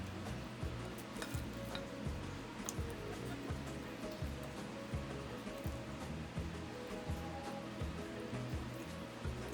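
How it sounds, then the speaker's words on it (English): Chicken pieces frying in oil in a pot give a soft, continuous sizzle with faint crackles, low and steady throughout. "Just gonna leave it to fry for a little bit, and then we just turn it over."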